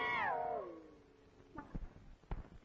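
A cat meows at night in a Tamil film scene: one loud, drawn-out meow that slides downward, followed by a few soft knocks and thumps, with no one talking.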